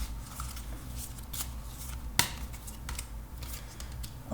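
Oracle cards being shuffled by hand during a tarot reading, a soft, close riffling and rustling with a few sharper snaps of cards, quiet throughout.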